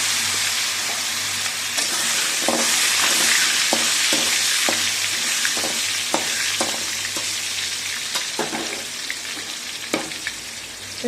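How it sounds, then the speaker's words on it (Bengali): Potatoes seasoned with salt and turmeric fry in hot oil in a pan, a steady loud sizzle throughout with repeated scraping and stirring knocks at irregular intervals. "এখানে আলুটা একটু নুন দিয়ে দিচ্ছি, অল্প একটু হলুদ দিয়ে দিচ্ছি, দিয়ে চাপা তেলের উপরে ভেজে নেব।"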